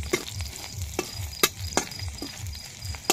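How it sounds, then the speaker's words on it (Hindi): Onions fry in a pan with a steady sizzle. A utensil stirs them now and then and clicks sharply against the pan, close up, with no voices. "अभी प्याज भुंजा रहा है"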